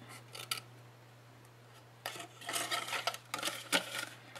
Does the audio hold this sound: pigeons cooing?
no